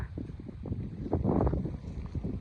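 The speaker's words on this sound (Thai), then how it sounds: "มีลมหนาวมา" Cold winter wind gusting outdoors, a rough low rushing buffet against the microphone that swells in the middle, with no voices.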